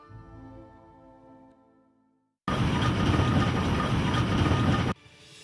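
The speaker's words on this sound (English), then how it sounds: "Then, a new invader entered the valley, the steam railway." A steam railway train rumbles past loudly and close for a few seconds, broadband roar cutting in abruptly after a quieter stretch of tonal music-like sound, then falling away.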